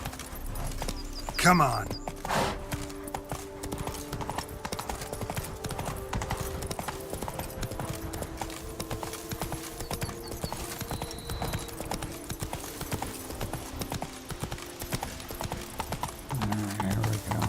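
Hooves of Roach, Geralt's horse in Witcher 3, pound in a steady galloping rhythm, with a brief whinny near the start, over constant game music and ambience; someone speaks briefly.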